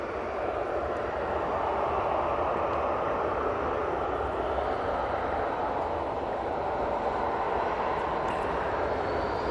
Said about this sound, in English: Got this TUI 737 making its way to us.